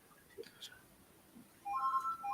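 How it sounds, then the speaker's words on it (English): A phone rings faintly in the background of an indoor room, a thin electronic tone that sounds near the end after brief quiet murmurs. "Whose phone is that?"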